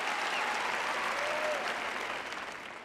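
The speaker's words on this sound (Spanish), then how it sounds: "Les aplaudo." Steady applause from a large church congregation at a sermon, a dense wash of clapping that holds strong and then starts to thin out toward the end.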